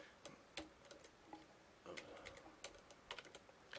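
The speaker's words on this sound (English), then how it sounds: "if I went back over to here and typed in that keyword" Keystrokes on a computer keyboard, a few faint, irregular clicks in scattered bursts, quiet and close with no talk over them.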